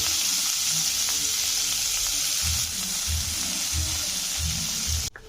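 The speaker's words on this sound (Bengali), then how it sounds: "তেলের মধ্যে একটু এই পেঁয়াজগুলো দিয়ে দেবো" Onions sizzle loudly in hot oil, a dense continuous crackle, with low thuds of stirring underneath before the sound cuts off abruptly at the end.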